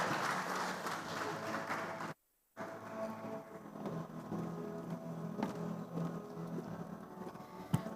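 Conference audience at a tech event in Africa applauds, a faint, steady wash of many hands clapping across a hall, with a brief dropout of silence partway through.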